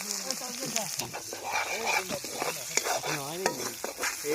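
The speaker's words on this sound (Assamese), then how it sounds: "ধুনীয়াকৈ পিঁয়াজখিনি দি ল'লোঁ কাৰণ এতিয়া মানে আমি চম্ভাৰ মাৰিম দালিখিনি" Onions sizzle in hot oil as a tempering for dal, a steady frying crackle with stirring that runs under a voice talking throughout.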